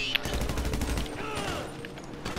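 Rapid gunfire rattles in a heist mission of the game GTA, the Doomsday Heist, a fairly loud continuous volley that thins out toward the end, with no talking.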